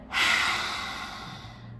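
One forceful exhale with the tongue out during a breathing exercise: a sudden loud breathy rush that fades slowly over about a second and a half, close to the microphone.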